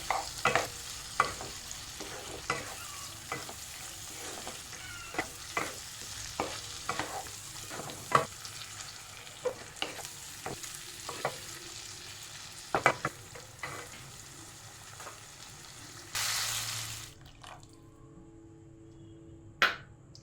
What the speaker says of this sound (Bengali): চিকেনগুলোকে ভালো করে কষিয়ে নেব